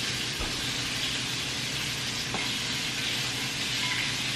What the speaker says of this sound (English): The chicken is frying